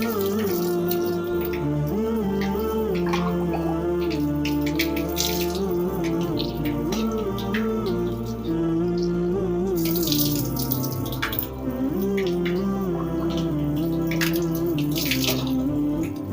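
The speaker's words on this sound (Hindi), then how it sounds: "फिर 3 मरतबा कुल्ली करें, जिस तरीके से हम कुल्ली कर रहे हैं।" Running water splashes steadily from a tap, with sloshing and gurgling as a mouth is rinsed three times during wudu ablution, close by and continuous.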